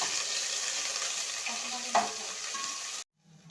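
Oil for a chicken dish heats and fries steadily in a pan, a close, even sizzle with a brief stir sound midway, before cutting off abruptly to quiet.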